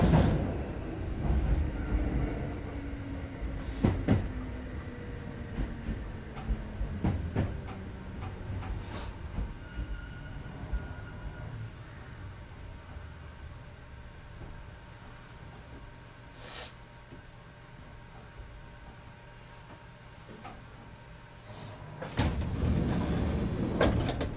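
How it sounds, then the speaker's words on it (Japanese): Kintetsu Nagoya Line train at a station stop, with onboard rumble fading as it halts, scattered clunks and hisses as the doors open and close, then the running noise swelling again as it pulls away. "The doors on the left side will open."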